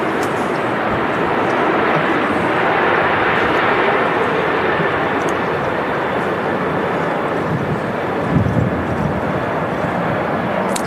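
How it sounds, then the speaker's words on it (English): A Ryanair airliner rolling along the runway at a windy Manchester Airport, a loud, steady broadband jet roar that holds throughout with a slight swell near the end, heard from a distance outdoors. "This Ryanair service that's now rolling on the runway is off to Dublin."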